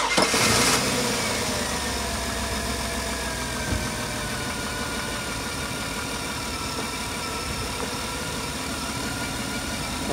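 A car with a weak battery cranks briefly, catches and settles into a steady, loud idle that runs on with a faint knocking texture.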